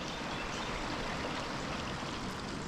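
A swollen creek rushes in a steady, unbroken flow, a dense broadband wash of moving water with no voices over it.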